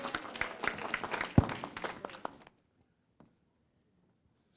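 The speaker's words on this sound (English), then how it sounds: "Let's give him a round of applause so he can warm up." An audience at a stakeholder engagement meeting gives a round of applause, a brief burst of scattered clapping that stops abruptly after a couple of seconds, followed by near silence.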